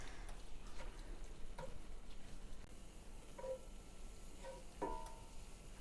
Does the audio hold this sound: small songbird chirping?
no